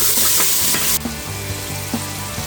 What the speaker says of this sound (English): Add in your onions, carrots, and celery.